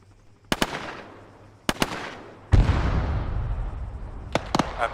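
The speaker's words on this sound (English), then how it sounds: "IED destroyed in the road." An IED detonating on a road in the military video game Arma 3: sharp blasts crack out, then a heavy boom rolls into a long rumbling decay, with more quick pops near the end.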